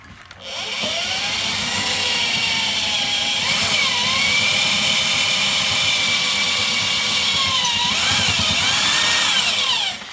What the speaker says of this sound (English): And then you can drill it out.